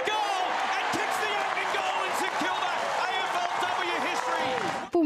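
Saints fans cheer at a women's Australian rules football match, a dense, steady crowd roar with applause that stays loud and close for the whole stretch.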